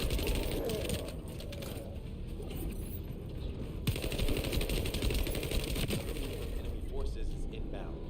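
SMG gunfire in The First Descendant video game, rapid continuous rattling bursts at moderate level, mixed with game effects and faint talk.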